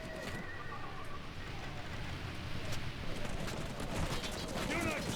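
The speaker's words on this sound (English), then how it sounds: "as you can plainly see, horses are being hurt." Horses whinny and neigh amid the roar of an ancient battle in Rome Remastered, set under a dense rumbling wash of clashing troops and distant missile fire, with a voice speaking faintly over the din.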